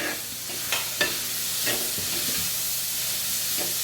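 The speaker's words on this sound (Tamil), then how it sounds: "வெங்காயம் லேசாக வெந்த உடனே இப்போ இந்த நார்த்தங்காயை போடுறோம்." Pieces of bitter orange land in onions sautéing in a pan for a Kanyakumari-style theeyal, giving a soft, steady sizzle broken by a couple of light thuds and stirring scrapes.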